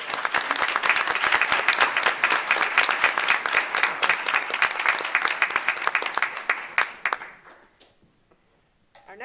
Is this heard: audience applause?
yes